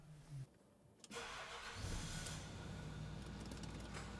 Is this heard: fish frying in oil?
no